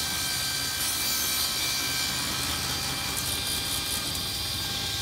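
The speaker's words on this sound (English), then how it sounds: "the top and bottom were flushed off on the table saw" A steady, loud whine of a table saw trimming the top and bottom of a wooden cabinet door assembly runs without a break, a continuous grinding roar with no talking.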